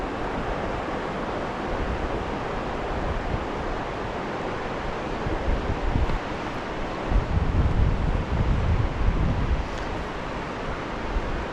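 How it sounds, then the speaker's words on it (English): Steady wind roars across the microphone, a continuous broad rush that swells a little louder toward the end, with no voices. "It's probably why it's starting to get windy."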